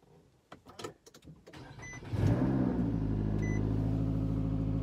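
A car with a blown muffler starts up and then holds a loud, deep, rough exhaust roar that continues steadily to the end, after a few faint clicks and knocks.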